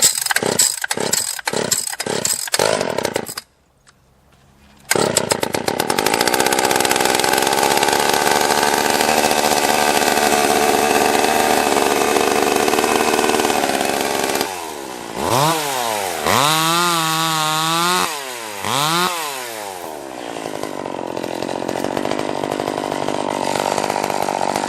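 A chainsaw in the woods is pull-started with a few quick cord yanks, drops silent briefly, then roars up loud and close, idling steadily before being revved hard in repeated rising and falling bursts.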